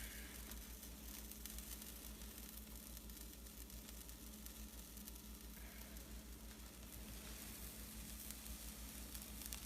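Egg frying in a pan for a breakfast burger, a faint, steady sizzle and crackle that carries on evenly throughout with no talk.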